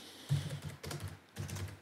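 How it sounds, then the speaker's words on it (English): Command typed on a computer keyboard at a desk, heard as three short bursts of soft, close key clicks with brief pauses between them, with no voices. "So let's do that by just typing chaincoind,"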